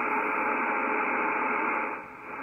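Steady hiss of 17 meter band radio static with digital noise reduction off, a dense band-limited rush, loud and unbroken, dipping slightly near the end.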